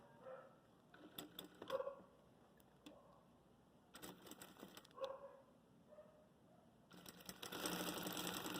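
A sewing machine fitted with a Teflon presser foot stitches plastic lining for a makeup case, running in short bursts with pauses between runs, fairly quiet, with a dog barking faintly in the background.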